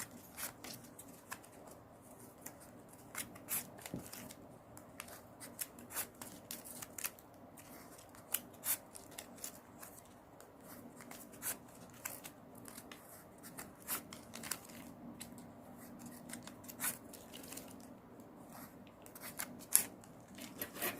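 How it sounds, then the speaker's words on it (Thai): Scissors snip the ribbon ends while a rose-shaped ribbon coin favour is being made, giving small, quiet, repeated cuts and light rustling scattered evenly through a soft background. "เสร็จแล้วเราก็ตัด ปลายริบบิ้นทิ้ง"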